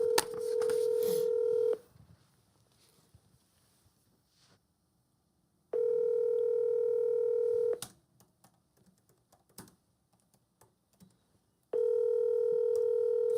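An outgoing telephone call rings out with a steady ringback tone, three long two-second bursts separated by quiet gaps, heard clearly through the line with faint background noise between rings.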